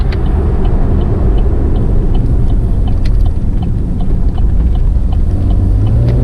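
A 6th-generation Chevrolet Camaro V6 holds third gear through a corner, its engine a steady, loud, low drone blended with road and tire rumble and no pauses.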